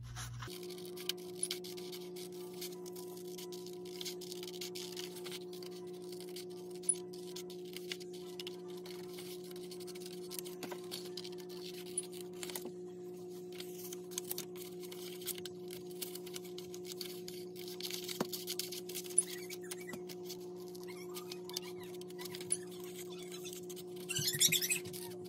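Scissors snip out a paper basket shape for a handmade Easter card, giving soft, faint scratching and small clicks at an uneven pace over a steady low electrical hum, close by, with no talking.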